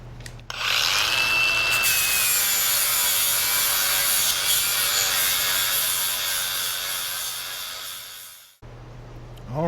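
Power grinder working over the outer edges of a scrap-built ATV trailer, a loud steady abrasive whine held for about eight seconds, then cutting off abruptly, with a low hum remaining.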